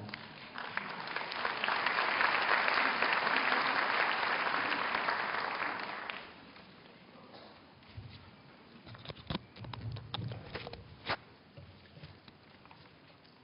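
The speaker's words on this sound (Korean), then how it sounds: "큰 박수로 맞이해 주시기 바랍니다" A crowd at a university entrance ceremony gives the university president dense, full applause that swells for about six seconds and then stops abruptly, leaving a quiet room with scattered shuffles and footsteps.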